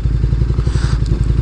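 KTM Super Duke 1290 R motorcycle with orange anodized Power Parts, its engine throbbing loud and close in a steady, lumpy low rumble with some clatter, no talk.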